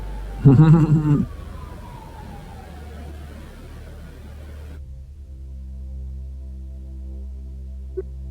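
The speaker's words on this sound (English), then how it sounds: "More sirens." A siren wails and slowly falls in pitch after a short burst of noise, then a low steady hum remains with a faint click near the end.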